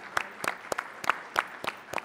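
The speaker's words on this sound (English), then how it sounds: "I think they all deserve a big round of applause." Applause for panelists at an education talk, a handful of distinct, well-spaced claps, sparse and fairly faint rather than a full-room roar.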